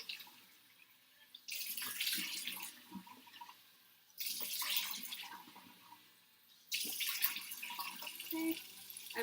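Tap water runs into a sink while a face is rinsed in a skin care routine, in three steady splashing bursts separated by quieter pauses.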